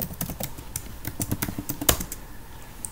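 Fingers type a password on a computer keyboard, a quick close run of crisp key clicks with one sharper tap near the end and no talking.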